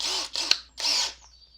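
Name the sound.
cordless drill spinning a rivet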